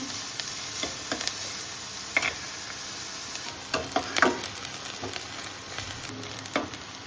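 Onions fry in a pan for tadka with a soft, steady sizzle, broken by occasional scraping stirs and light clinks; quiet and close, with no voices.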